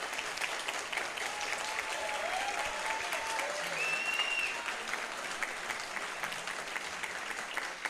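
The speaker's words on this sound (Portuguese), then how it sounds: "eu peço uma salva de palmas" Audience applause in a hall at the closing ceremony of an annual scientific society meeting, steady moderate clapping from many people that carries on evenly, with faint whistle-like tones briefly over it.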